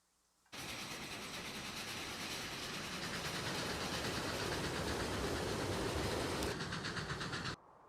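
Trains rolling through a Transport Fever 2 rail network, a steady loud rumble with rhythmic clickety-clack of wheels over rail joints, starting abruptly and running continuously for about seven seconds before cutting off.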